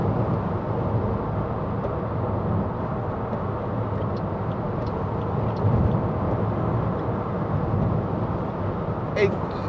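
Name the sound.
2014 Toyota Aygo 1.0 interior noise at 70 mph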